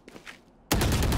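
A gun fires in the Valorant shooter game: after a brief quiet stretch with faint clicks, a sudden loud burst of fire cuts in and stays dense and sustained to the end, with no talking.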